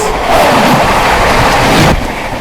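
The Howrah Rajdhani train passes at a crossing as a loud, close, continuous rush and rumble of wheels and carriages filling the whole moment.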